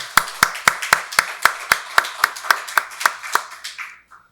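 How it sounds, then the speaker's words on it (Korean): A church congregation claps in steady unison during a Sunday worship service, about fifteen sharp, evenly spaced claps that quicken slightly before trailing off, with no talking. "박수로 하나님께 영광 돌리겠습니다."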